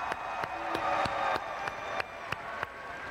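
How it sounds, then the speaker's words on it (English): Audience applause for the Michigan team at a FIRST Tech Challenge robotics super regional opening ceremony, a steady wash of crowd clapping with a few sharp louder claps standing out at irregular intervals. "Let's give them a round of applause."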